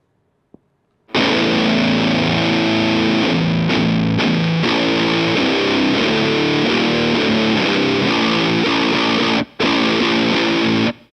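Heavily distorted electric guitar through a Lichtlaerm Audio Medusa death metal distortion pedal chugging dense, saturated riffs, loud and continuous with a brief cut near the end.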